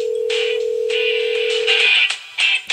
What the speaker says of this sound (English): I'll call my phone so you can hear.